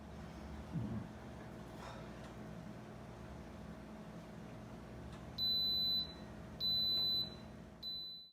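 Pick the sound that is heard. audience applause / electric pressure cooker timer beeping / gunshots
electric pressure cooker timer beeping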